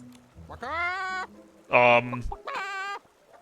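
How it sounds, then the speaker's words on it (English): A giant Barretsant creature in the video game Infinity Nikki clucking in three loud, hen-like calls with short gaps between them. "Let me jump up and see if this giant Barretsant clucks."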